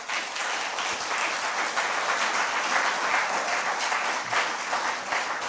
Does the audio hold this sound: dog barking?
no